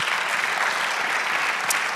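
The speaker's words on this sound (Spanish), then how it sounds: "Dale un aplauso al Señor." Sustained applause from a church congregation, a dense even wash of clapping at moderate level throughout, without a clear break or spoken voice over it.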